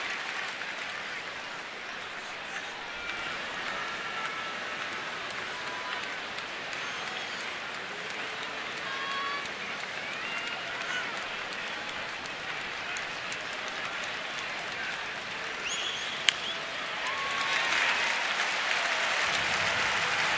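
Sustained applause from a baseball crowd on its feet at Nats Park, a dense wash of clapping and cheering that keeps up throughout and swells louder toward the end.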